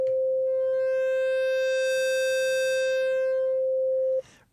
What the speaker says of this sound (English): So here's the sine wave in its basic form.